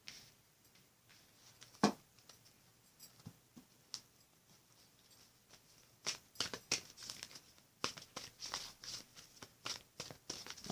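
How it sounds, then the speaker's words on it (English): Tarot card decks are shuffled close up, soft papery riffles and sharp crisp slaps coming in irregular bursts, sparse at first and then quicker and denser toward the end, fairly quiet with no talk. "I'm shuffling on camera, so you guys see that I shuffled"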